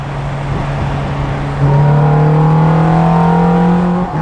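A Ferrari F430's engine revs loud and close, holding a steady drone before climbing in pitch with a rising, strained tone through the gears, with no talk over it.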